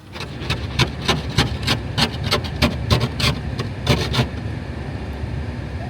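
Rhythmic rasping strokes of an ice scraper on a frost-covered, completely frozen car, about a dozen close, loud scrapes in quick succession over a steady low outdoor rumble, then stopping near the end.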